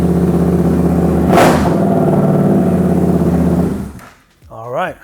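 A 2023 Suzuki GSX-8S motorcycle fitted with a TST WORX V1 intake idles loudly and steadily up close, with a sharp rev partway through. The engine then cuts off, followed by a brief rising and falling whine.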